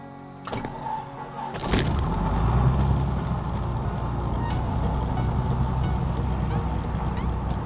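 A Piper Saratoga PA-32R-301 propeller engine cranks over with a few clicks and then catches, settling into a loud, steady running drone close by.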